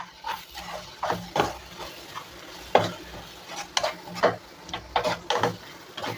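Spices with salt sizzle and crackle in a hot pan for okra tamarind curry while a spoon scrapes and stirs in quick, irregular strokes, close and moderately loud.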